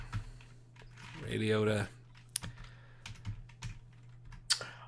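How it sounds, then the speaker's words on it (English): Keys clatter on a computer keyboard in quick, uneven bursts, close and moderately loud, while a person speaks briefly over a steady low hum. "I didn't even get to finish typing."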